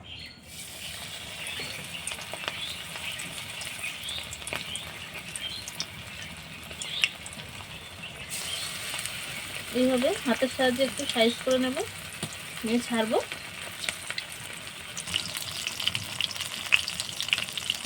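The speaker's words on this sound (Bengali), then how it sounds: "আমি এবার একে একে পকোড়াগুলো ছেড়ে দেব।" Jackfruit and prawn pakoras sizzle and fry steadily in hot white oil in a kadai, with stirring noises and someone talking over the cooking throughout.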